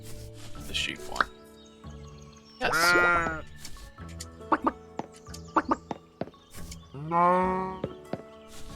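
Sheep bleat twice in long wavering calls amid a busy farm-game soundscape of dripping clicks and chimes, with a voice speaking briefly between them.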